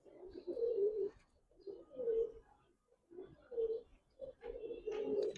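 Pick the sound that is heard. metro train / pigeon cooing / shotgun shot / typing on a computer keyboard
pigeon cooing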